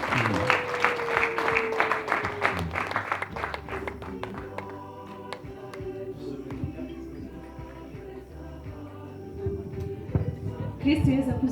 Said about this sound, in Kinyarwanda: Mumfashe tubaha amashyi n'impundu.